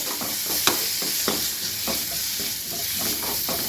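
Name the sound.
onions and tomatoes stirred while frying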